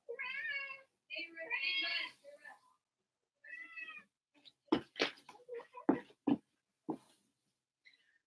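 A cat meows loudly several times in a row, drawn-out wavering cries up close, followed by clattering knocks and thumps in a quiet room.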